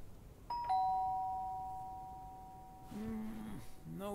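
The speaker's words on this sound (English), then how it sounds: "Ding dong." A doorbell rings with a clear two-note chime that rings on and fades slowly, followed by a short stretch of a voice speaking.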